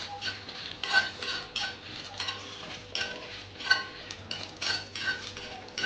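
Dried red chillies and other ingredients slowly roasting in a little oil for a high-protein karam podi, with repeated spoon scrapes and light clinks against the pan in an uneven rhythm over a faint sizzle.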